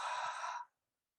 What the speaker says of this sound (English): Exhale, audibly.